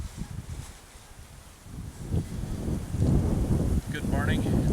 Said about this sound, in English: it's windy as can be